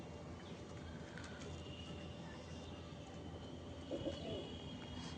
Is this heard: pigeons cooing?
yes